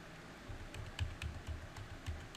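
Computer keys are pressed in a quick, irregular series of soft clicks and taps, close and fairly quiet, with no voice.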